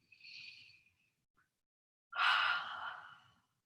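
Two deep breaths during a Pilates stretch, a softer exhale followed after a pause by a louder, fuller breath, close and alone with no talking.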